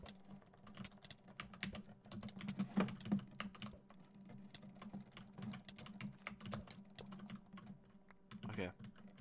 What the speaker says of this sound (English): I hope my keyboard and mouse isn't too loud, but if it is loud, I hope you like the noise.